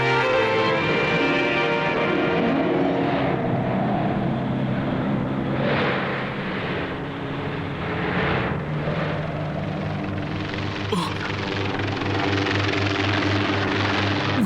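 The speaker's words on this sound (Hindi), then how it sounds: "जो आगे देखो, एक हेलीकॉप्टर आ रहा है।" A helicopter approaches through a dense, steady roar of rotor and engine noise, loud and continuous, with broadband wash swelling slightly toward the middle.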